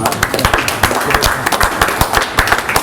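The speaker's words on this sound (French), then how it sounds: "On peut l'applaudir, je pense." A small group claps at a youth football camp event, the individual claps close, sharp and uneven rather than blended, loud and without talk.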